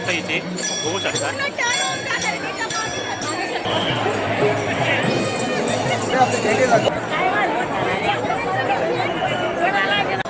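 A huge crowd gathers before the Dagdusheth Halwai Ganpati temple in Pune for the palkhi procession, a loud continuous babble of many voices with bell rings and shuffling throughout.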